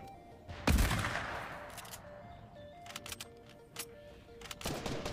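A weapon fires in Fortnite: one sharp loud blast followed by a decaying echo, then scattered quieter shots and clicks over several seconds.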